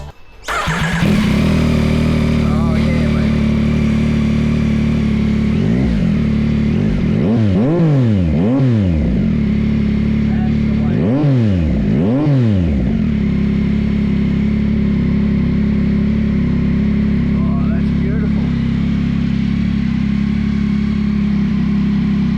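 A Yamaha XSR900 motorcycle with a Kelpie custom exhaust idles loudly and steadily close by, then is revved in several quick sweeping bursts in the middle before settling back to a rumbling idle.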